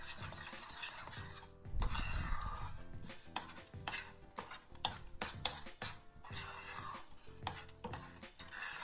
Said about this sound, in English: I'm going to mix it thoroughly.